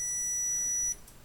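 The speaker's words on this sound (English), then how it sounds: "it start beeps. You hear the beep." Steady high-pitched electronic beep from a Panasonic 46-inch TV circuit board under repair, holding one continuous tone for about a second before cutting off, loud and close with no talking.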